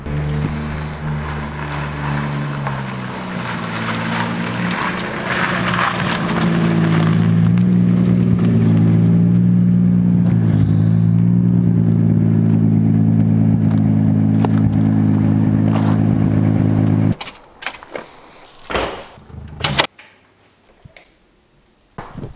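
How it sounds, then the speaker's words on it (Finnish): A car engine hums steadily and grows louder as it approaches, then cuts off abruptly, followed by scattered clunks and thuds. "Nyt kuulostaa siltä, että Inka on saapumassa kotiin päin"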